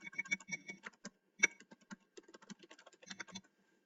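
Quick, close taps on a computer keyboard as a password is entered, a few seconds of irregular keystrokes in a quiet room.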